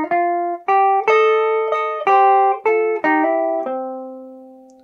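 Guitar playing a rockabilly lick, a series of about eight clean plucked notes and double stops in an even rhythm, ending on a held lower note that rings out, played alone and up close.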